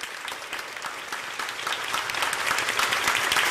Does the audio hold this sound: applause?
yes